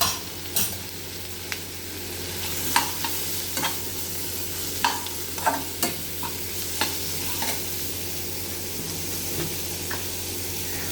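Spices with chili powder and fennel powder sizzle in a pan under a steady fry, while a spoon stirs and scrapes in sharp, irregular clicks and taps.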